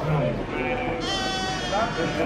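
A young lamb bleats in a quavering, plaintive cry heard up close, rising into a longer wavering call midway, with a voice talking over it in the background.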